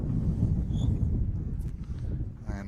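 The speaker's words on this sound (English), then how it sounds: "It's the breeze you might hear in our effects microphones." Gusty late-afternoon breeze buffeting outdoor effects microphones at a women's bowls pennant final, a steady low rumble of wind noise throughout with small bumps and rustles.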